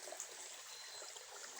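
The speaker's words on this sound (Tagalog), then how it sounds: "Sa malaking ilog." A big river flowing, a soft steady rush and trickle of water heard faintly and continuously with no talk.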